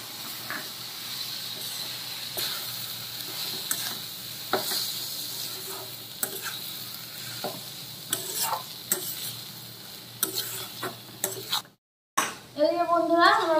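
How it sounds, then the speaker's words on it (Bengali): Bengali spice paste with mustard and green chilli being fried and stirred in a pan, a continuous close sizzle with regular scraping and clinking stirs, then a brief cut and a voice near the end. "এবার আমি ভালো করে মশলাটা কষিয়ে নেব।"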